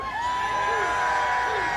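A racetrack crowd at Talladega in 2009 cheers and whoops to vote in a Halloween scream contest, a loud sustained roar with a voice rising through it.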